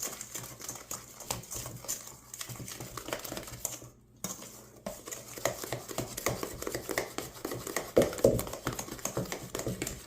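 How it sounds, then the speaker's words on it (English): A spoon stirs baking powder and salt into muffin mix in a bowl, giving a busy run of rapid clinks and scraping taps that continues steadily with a brief pause midway. "give that a good stir so it's all mixed throughout"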